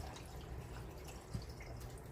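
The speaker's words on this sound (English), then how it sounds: "Now what we do is add water" Water drips and trickles into a pot of homemade salsa as it is added during dinner cooking, faint and close, with one small splash standing out.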